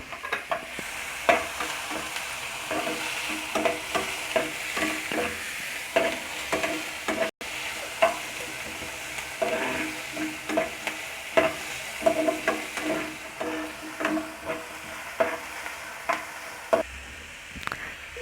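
Tomatoes and curry leaves sizzle in a hot pan while a spoon scrapes and stirs in quick, repeated strokes, close and busy, with no talking.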